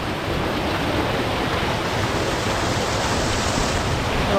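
Loud, continuous roar of water rushing through a damaged village dam in Velas with stones dislodged from its wall, a dense steady wash of noise with no pauses and no voices.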